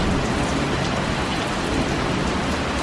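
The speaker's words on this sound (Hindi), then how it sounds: "बहुत ज़ोर से हवा और उसके साथ बारिश" Heavy rain driven by strong wind pours outside a home, a loud, dense, continuous hiss and patter with no pauses.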